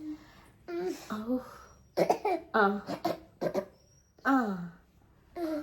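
A few sharp coughs and throat-clearing bursts come in short clusters, close and fairly loud, mixed in among playful voices.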